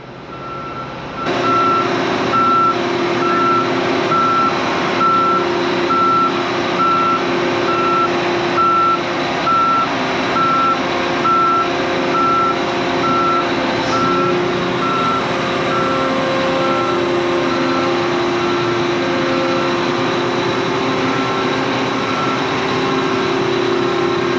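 A vehicle gives steady, evenly spaced reversing beeps over a running truck engine while a combine harvester is brought into a barn, loud and close, continuing without pause and with no talking.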